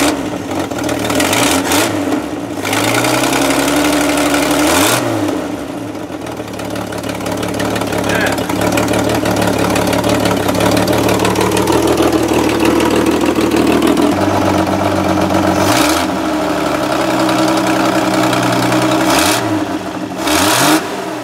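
A 1965 Ford Econoline truck engine with a freshly adjusted carburetor runs loud and close, idling roughly, then revving up several times with knocking, uneven pulses.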